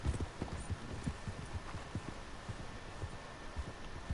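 Horse hooves clip-clop steadily in Red Dead Redemption 2, a regular rhythmic trot of repeated thuds over faint background ambience, with no talk.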